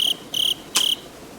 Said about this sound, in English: Insert crickets here.